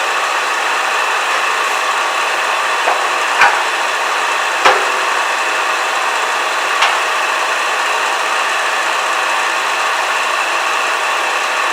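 A wooden bottle stopper spins on a lathe mounted on a screw chuck, with a steady loud motor hum and a gouge cutting the wood, plus a few brief sharp taps and scrapes scattered through.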